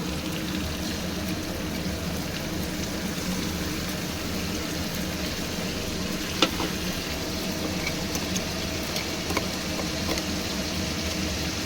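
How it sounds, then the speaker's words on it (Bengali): Spice paste of cumin powder, chilli powder and Kashmiri red chilli powder frying in a pan for shol fish with radish, a steady low sizzle with a few faint clicks of stirring, no talk. "মশলাটা দিয়ে কষাতে হবে।"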